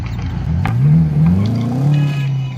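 A BMW M5 G90 with a V8 engine in the BeamNG driving game, loud and close, revving up through rising gear pulls with a brief knock partway through.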